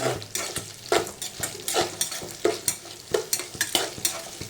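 Brinjal pieces soaked in salt water fry in a pan for Andhra-style vankaya curry, with a steady sizzle and repeated rhythmic scrapes of a spatula stirring them, close and alone without talk.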